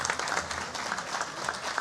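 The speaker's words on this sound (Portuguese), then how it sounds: "dá um salve de palmas para a turma" Audience applause at a Brazilian health ministry tripartite commission meeting, a dense, steady patter of many hands clapping at moderate distance for the whole stretch, with no voices over it.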